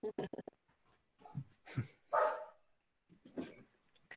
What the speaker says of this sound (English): my two dogs are outside responding, barking to the neighbor dogs right now